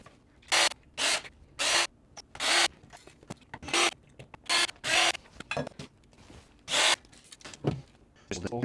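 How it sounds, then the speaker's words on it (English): Circuit board being worked loose from an Adcom GFS-6 speaker selector during a teardown, giving a series of bright scraping, rubbing and clicking bursts in an uneven rhythm, close and fairly loud, with soft talk between them. "let me see if I can just get the board itself out"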